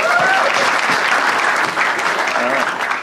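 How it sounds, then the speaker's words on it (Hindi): A studio audience gives loud, dense applause for Poonam Pandey on a comedy show, filling the short stretch, with faint voices under the clapping. "जोरदार तालियां फॉर पूनम पांडे यार."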